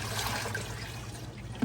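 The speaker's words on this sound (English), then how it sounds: "I like to just run the faucet over the filter" Faucet water running over a hot tub filter, a steady close trickle and gush of rinsing water, continuous and fairly loud, with no one speaking.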